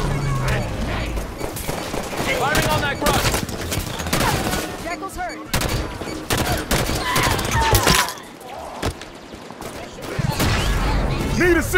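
Heavy sustained gunfire in the Halo 5 campaign, bursts of automatic weapons and explosions layered over each other, loud and dense throughout with a brief lull, while voices talk amid the shooting.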